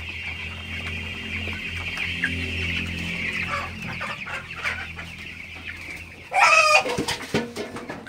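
Broiler chickens cluck steadily in a shed over a low hum of farm machinery, with a louder burst of squawking near the end.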